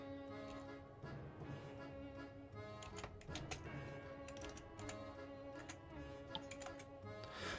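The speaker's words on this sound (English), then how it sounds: "I'm also typing it into the chat." Keyboard typing in a quiet room, faint irregular clicks and taps in short bursts over a low background hum.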